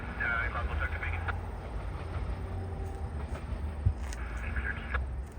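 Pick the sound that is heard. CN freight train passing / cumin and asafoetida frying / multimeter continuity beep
CN freight train passing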